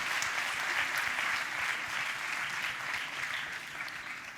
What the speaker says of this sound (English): Let's give a big round of applause to Pakistan's first Surgeon General.